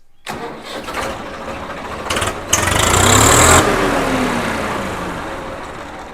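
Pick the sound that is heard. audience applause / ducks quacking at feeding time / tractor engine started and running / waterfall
tractor engine started and running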